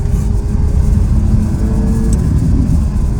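A 2016 Ferrari F12 Berlinetta V12 with an Fi exhaust and its valve open revs steadily, a loud, close, dense engine roar holding for several seconds with no talk.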